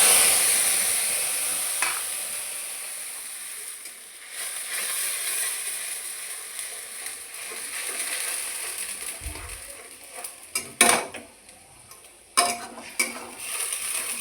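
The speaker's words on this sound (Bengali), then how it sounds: "এই আমি তেলের মধ্যে জিরে তেজপাতা ফোড়ন দিয়েছি" Cumin seeds and a bay leaf temper in hot oil with a hissing sizzle that fades and swells, joined near the end by a few sharp metallic clinks and scrapes of a utensil against the pan.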